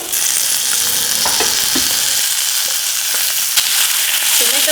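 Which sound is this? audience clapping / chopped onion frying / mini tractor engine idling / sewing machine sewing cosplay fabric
chopped onion frying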